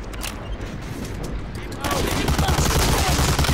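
Enemy gunfire crackles through a wall in the video game Medal of Honor: Allied Assault, a dense, steady barrage of rapid shots that grows louder and heavier partway through, with no pauses.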